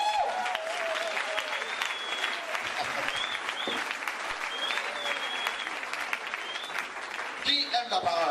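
Sustained applause from a church congregation in Kinshasa, dense and steady for several seconds, with a few voices calling out over the clapping near the end.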